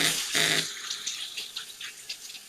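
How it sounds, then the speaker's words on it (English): Water runs from a kitchen tap over egg-coated hands, a loud broadband gush in the first moments that eases into softer, uneven splashing and trickling. "Let me rinse my hand real quick because they're eggy."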